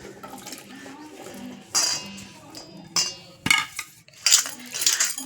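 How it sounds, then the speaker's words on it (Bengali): Grapes are washed and rubbed by hand in water, with splashing, sloshing and clinks of a metal bowl or utensils in short irregular bursts, close up, with faint background voices. "ভালো করে চটকে চটকে ধুয়ে দিচ্ছি কেন আঙুরের গায়ে তো ধুলাবালি নোংরা থাকে"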